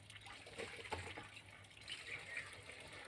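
Water is poured in to prime a farm water pump beside a well, a faint steady gushing and splashing trickle heard from close range.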